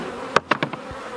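Honeybees buzz at a hive being prepared for a move. A few short, close buzzing bursts sound in quick succession over a faint background hum, with no voice.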